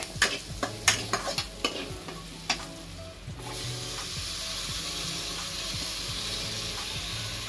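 Tomatoes frying with turmeric and salt in a pan for a pasta dish, a steady close sizzle with spoon scrapes and stirring clicks in the first few seconds, then a continuous loud hiss of frying.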